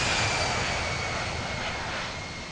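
A Turkish Airlines heavy airliner taxiing at Hurghada airport gives a steady, broadband engine roar with a faint high whine. It stays constant and fairly loud, easing off slightly toward the end, with no speech.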